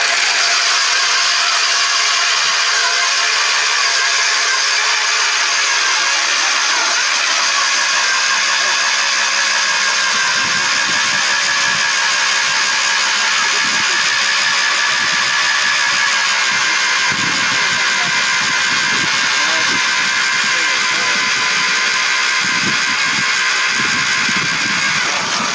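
A powered ice auger bores through lake ice at a winter festival, its small engine running with a sustained high whine and rumble for the whole stretch, with scraping and bumps as the bit works.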